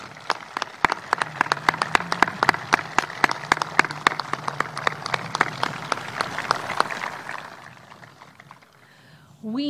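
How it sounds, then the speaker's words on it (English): Graduates at the U.S. Naval War College graduation ceremony applaud faculty and staff, with sustained, dense clapping from a large crowd that thins out and fades toward the end. "I would like to have our students give a warm round of applause to the faculty and staff"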